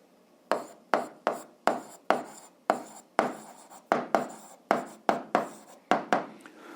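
Handwriting with a pen or chalk while working an algebra check, a close series of about sixteen short scratchy strokes in an uneven rhythm, each a quick attack fading out, with no talk.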